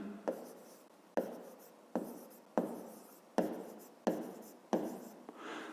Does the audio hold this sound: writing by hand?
yes